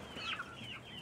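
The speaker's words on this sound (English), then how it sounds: "Chickens coming over. Chickens hanging around me." Chickens gathering close around a person outdoors, giving soft, low clucks and murmurs over a steady background hiss, with no talking.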